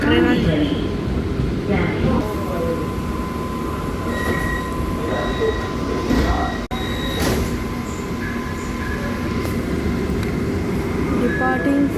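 An AC slow local train departs Kandivali station in Mumbai with a loud, steady rumble of wheels and carriages, a thin tonal whine running through it and brief squeals, muffled voices under the din.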